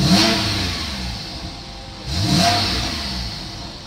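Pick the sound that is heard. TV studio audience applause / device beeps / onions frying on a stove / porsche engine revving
porsche engine revving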